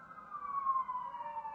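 A siren passes faintly outside, a single wavering tone that slowly slides downward in pitch, distant and quiet against a calm, otherwise still background.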